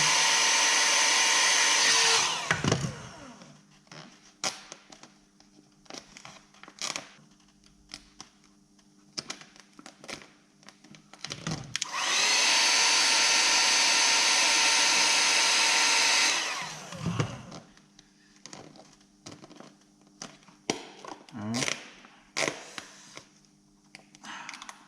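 Heat gun blowing on vinyl wrap over a Lexus RCF front bumper, two long loud whooshing bursts separated by quieter handling, tapping and rubbing noises, close up.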